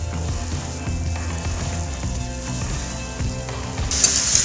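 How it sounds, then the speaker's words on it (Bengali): Pieces of papaya sizzle steadily in hot oil with nigella seeds and a green chilli, a continuous close frying crackle with some clatter from the pan. "এবার আমি এর মধ্যে পেঁপেটা ছেড়ে দিচ্ছি।"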